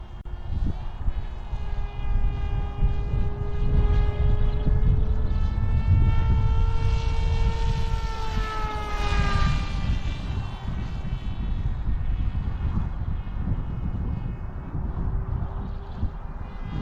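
A model gyrocopter buzzes overhead, its propeller whine rising and falling in pitch as it passes. Heavy wind rumble sits underneath throughout, and no one speaks.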